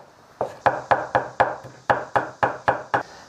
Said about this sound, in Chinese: 先切一下之后剁碎。